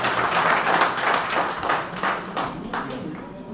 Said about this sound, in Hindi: कृपया तालियां बजाकर उनका स्वागत करें।